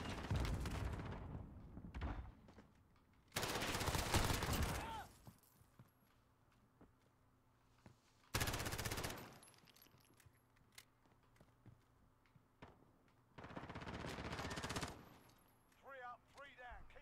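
MP7 submachine gun fire in Call of Duty Modern Warfare during a 2v2 Gunfight match, heard as three loud sustained automatic bursts separated by quieter stretches of footsteps and faint game noise.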